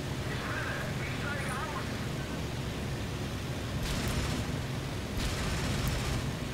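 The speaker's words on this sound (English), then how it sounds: "Oh, big explosion." A burst of aircraft explosion from the IL-2 Sturmovik VR combat flight game: a dense, broad rumbling roar that swells in two heavier waves partway through, steady and loud from start to end.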